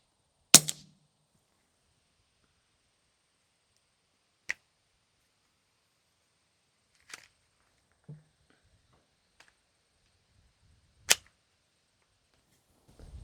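Suppressed .22 LR rounds from an Advantage Arms conversion kit on a Glock, fed from a 3D-printed 15-round magazine, crack out as a handful of sharp, isolated reports spaced seconds apart with long quiet gaps.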